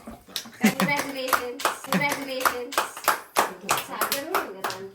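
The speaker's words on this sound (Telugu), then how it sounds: "hi okay claps claps" Several people clap in uneven bursts at a lucky draw phone giveaway, loud and close, with voices talking over the applause.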